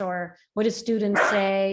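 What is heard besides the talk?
dog barking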